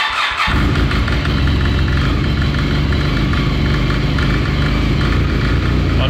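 Arctic Cat Wildcat 4X UTV with a 300 hp engine revving hard and steadily as the belt clutch strains to engage, a loud continuous close-up roar filling the whole stretch after a brief quieter start.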